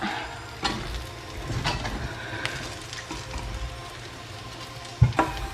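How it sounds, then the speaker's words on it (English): Prawn fried rice with green pepper stir-fried in a pan, a low steady sizzle with scattered scraping and tapping of the utensil, one sharper clatter near the end, no talk. "I'm going to add also the green pepper. Mix them together like that."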